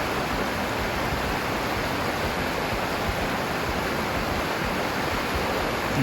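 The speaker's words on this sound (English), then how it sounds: "I like to stop here and just look at and listen to the river for about 30 seconds" A river rushes steadily in the open during a pause on a walk, a continuous broadband wash of flowing water heard up close and alone, holding an even level throughout.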